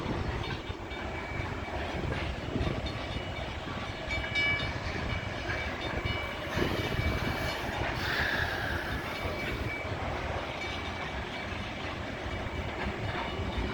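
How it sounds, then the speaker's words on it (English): A CN freight train rolls steadily through a railroad crossing at speed, a dense continuous rumble and rattle of railcars with faint wheel squeal, close and loud throughout with no voices. "Yeah, the train is going quite fast now."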